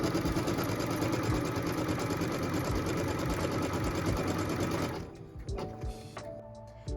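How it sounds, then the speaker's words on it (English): A sewing machine runs fast and loud up close while stitching a tack-down line across two pieced fabric sections of a quilt block, then stops, leaving light clicks and handling noises. "what we're going to stitch now is a tack down line that's going to go across both piece 1 and 2"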